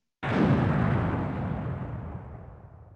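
A single bomb explosion from the video game Link: The Faces of Evil booms out after a brief silence, a loud burst that rumbles and slowly fades over a couple of seconds.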